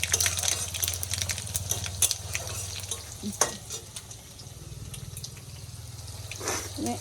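Ginger drops into hot oil already tempered with panch phoron, bay leaf and dried red chilli, giving a steady low sizzle with scattered crackles and a few sharp clinks of a spoon stirring the pan.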